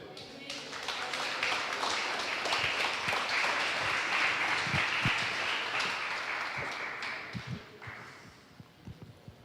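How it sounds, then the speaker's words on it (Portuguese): Church congregation applauding during a sermon, a broad wash of clapping that swells and holds for several seconds, then thins into scattered claps as a voice comes back in. "Vocês podem aplaudir o Senhor?"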